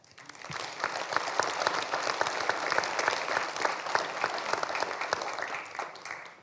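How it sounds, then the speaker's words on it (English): A crowd at a municipal election candidates forum applauds steadily, many hands clapping in a dense, even wash that swells and then fades at the end, without talk over it. "I think a continued round of applause for the candidates this evening is deserved."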